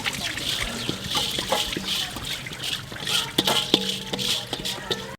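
Water poured into a large pot for a 14-kilo chicken degi biryani, a steady trickling, splashing stream with light metallic rattles throughout, fairly close and continuous.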